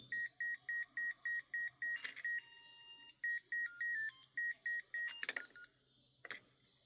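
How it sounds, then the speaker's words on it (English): Rapid electronic beeping in short regular bursts from a REM pod, a steady high-pitched pattern that shifts tone midway, with a couple of sharp clicks near the end. "Do you hear all those beeps?"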